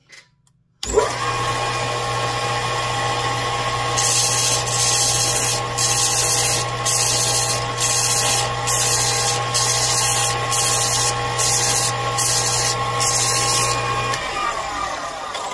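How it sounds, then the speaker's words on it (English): A power sander whines steadily with a constant motor hum, while bursts of harsh grinding come and go in short, repeated passes against the crimped metal edges of bottle caps. "That's all you're doing is just sanding off the tips of that crimp"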